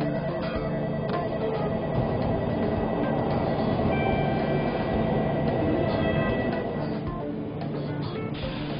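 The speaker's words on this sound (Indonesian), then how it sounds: "Kereta api yang menjadi primadona angkutan jarak jauh di Jepang adalah Shinkansen atau kereta peluru." A Shinkansen bullet train in Japan rumbles along with a continuous steady roar and faint rhythmic clatter, loud and sustained throughout, with no talking heard.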